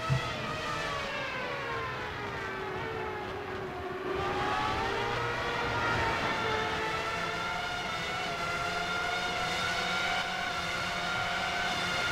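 Race cars lap Phillip Island circuit, their engines whining in long rising and falling tones as they pass at a distance, sustained and steady beneath a constant track ambience.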